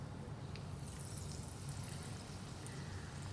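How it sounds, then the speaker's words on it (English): Potato ball for vada pav, coated in batter, lowered into hot frying oil, giving a soft steady sizzling hiss with faint bubbling that holds evenly throughout at low volume. "and then into the frying oil it goes."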